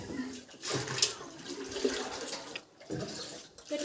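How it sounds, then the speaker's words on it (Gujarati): Water gushing into buckets outdoors during clothes washing, a continuous splashing rush that swells and dips over a few seconds, with people talking faintly. "જલ્દી પાણી ભરી દે"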